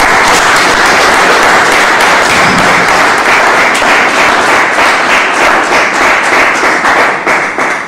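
Loud, close audience applause fills the room, dense rapid clapping holding steady for about eight seconds and easing slightly at the end, with no voices over it.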